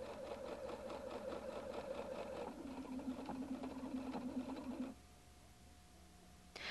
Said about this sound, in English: Your Designer 1 automatically sews the tiny fix stitches at the beginning of a seam.